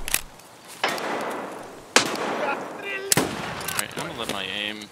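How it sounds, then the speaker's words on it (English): Gunfire in the video game Escape from Tarkov, several sharp loud shots at irregular intervals with ringing tails, mixed with a player's excited talk. "Oh shit, he's shooting at me."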